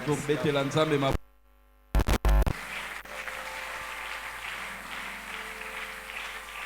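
Congregation in a church service applauding and cheering after a call to acclaim the Lord, broad crowd noise rising after a brief silence, with a preacher's voice heard before it.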